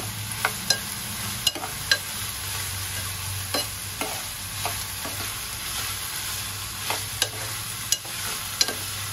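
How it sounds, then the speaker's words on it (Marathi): Chopped green chillies fry and sizzle steadily in a pan for a paneer bhurji, with a constant hiss and crackle broken by several sharp clicks and scrapes of a stirring spoon against the pan. "आणि ह्या मिरच्या मी 2 बारीक चिरून घेतल्या त्या घालूया।"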